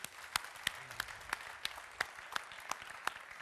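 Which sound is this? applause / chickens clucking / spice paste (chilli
applause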